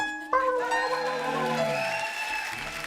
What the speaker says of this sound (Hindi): एक बार गहराइयां की पूरी स्टार कास्ट के लिए जोरदार तालियां